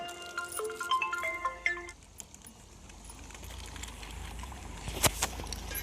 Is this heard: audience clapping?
no